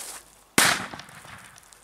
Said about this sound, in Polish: chyba poświęcę dla tego świetlika, żeby tą petardę odpalić